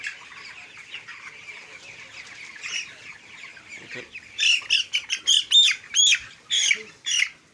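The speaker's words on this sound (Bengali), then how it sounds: "তা আরেকটা মুরগি দেখাই আপনাদের" Broiler chickens in a poultry shed cluck softly at first, then break into a run of loud, close squawks and clucks in quick succession.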